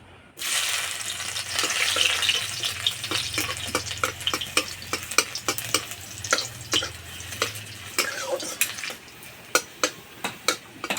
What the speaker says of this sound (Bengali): এবার দেবো থেতো করা রসুন।